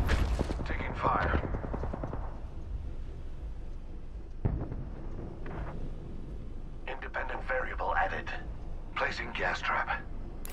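Bursts of rapid gunfire crackle in an Apex Legends match, clustered in short volleys early and late, mixed with game effects and voices speaking over the action.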